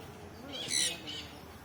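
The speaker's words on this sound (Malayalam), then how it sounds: "അതാണ് ബ്ലൂ ഗോൾഡ് മക്കോ." A blue-and-gold macaw at a bird park in Chandigarh gives one short, harsh call over quiet background noise, fairly faint and at a distance.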